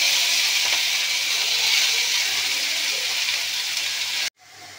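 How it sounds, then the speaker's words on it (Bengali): Chopped brahmi greens fry in hot ghee in a wok with a loud, close, continuous sizzling hiss that cuts off abruptly near the end. "কড়াইতে একটু ঘি দিয়ে দিচ্ছি, ঘিটা গরম হয়ে গেছে। এবার ব্রাহ্মী শাকটাকে দিয়ে দিলাম।"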